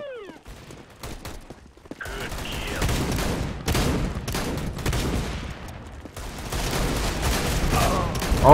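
Rapid gunfire from the video game CS:GO rattles in repeated close, loud bursts and volleys, with voices talking over the shooting.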